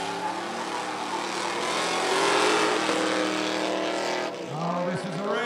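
Cars drag race side by side at Rockford Speedway during spectator drags, engines roaring loud and sustained with a swelling, shifting drone that peaks and then fades as they pass, with voices over it.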